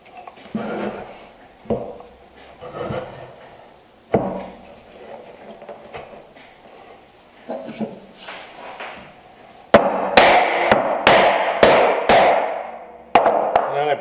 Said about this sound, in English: I begin by with the crosscut version of the miter jack or tenoning saw, and this allows me to begin the cut